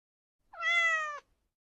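A single cat meows once, clear and fairly close, lasting about two-thirds of a second against otherwise silent surroundings.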